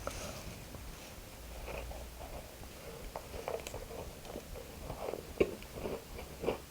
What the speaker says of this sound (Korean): 그냥 먹어볼게요